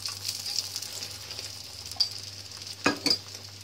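An egg roll stuffed with egg bhurji fries in ghee on a pan. A steady, close sizzle runs throughout, with a few sharp clinks and scrapes of stirring near the end.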